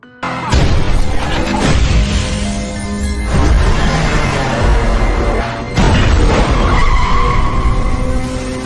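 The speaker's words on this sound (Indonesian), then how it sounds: "Akhirnya ambil kesempatan untuk menabrak mobil mereka." A car deliberately rams into another car during a film scene, with tires skidding and a heavy metal crash, followed by further loud impacts and screeching across a sustained, dense burst of noise.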